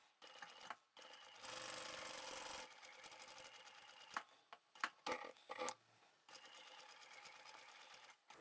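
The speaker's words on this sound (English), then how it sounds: "I'll start sewing at the fold with a back stitch." A sewing machine back stitching at the fold of a reversible sling bag: short bursts of fast, close needle whirring, separated by pauses and clicks, then a final run.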